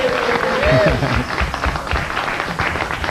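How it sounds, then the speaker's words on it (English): Studio audience applause at a 1989 Kmart Children's Miracle Network telethon, a dense steady patter of many hands at moderate loudness with a voice and some chatter mixed in. "A round of applause, guys"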